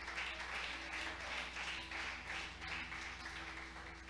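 Church congregation clapping together in praise during a worship service, a fairly faint, rhythmic wash of many hands over a steady low hum from instruments or sound system.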